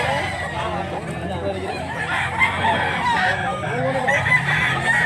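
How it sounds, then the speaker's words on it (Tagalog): Rooster crowing in a rural Cebu setting where fighting cocks are being shown and sold, the crow mixed into steady background chatter and ambient noise, with people talking nearby. "Gandang manok."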